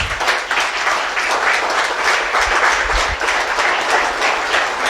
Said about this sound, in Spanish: Le damos un aplauso al Señor por su palabra